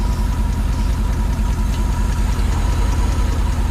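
A 76-year-old Pontiac engine, revived and running with its carburetor, idles steadily and loudly with a continuous low rumble and rhythmic knocking pulses throughout.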